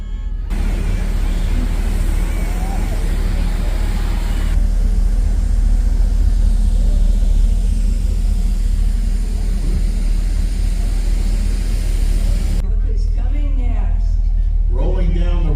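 A restored 1976 Chevy Nova police car rolls through a Christmas parade, its engine a steady low rumble heard from inside the car under constant talking and crowd noise.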